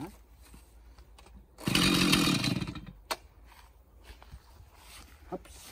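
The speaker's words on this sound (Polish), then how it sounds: "tutaj olej do smarowania piły jeszcze jest, więc odpalamy" Chainsaw pulled to life and revving loudly for roughly a second and a half during woodland clearing at a rural homestead, then dropping away to low rustling and a few sharp knocks.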